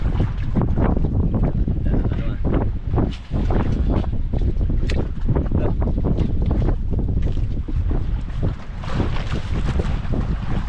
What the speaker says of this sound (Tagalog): Lakasan ng hangin mga idol ah.